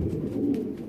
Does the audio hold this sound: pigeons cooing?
yes